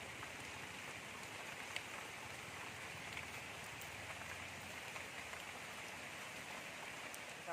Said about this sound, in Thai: ครับผมฝนตกแล้วนะครับ